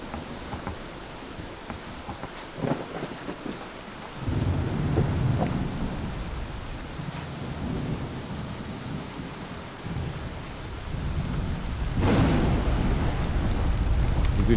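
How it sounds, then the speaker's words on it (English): Rain and thunder in the farming video game Farmers Life: a constant heavy rain hiss with several deep thunder rumbles rolling in and swelling, no voices. "The good thing is it's been raining"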